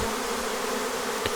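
Thousands of honey bees from a swarm stream back to their hive, making a dense, continuous buzzing drone that fills the air close by, with no voices.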